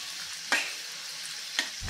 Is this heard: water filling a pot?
no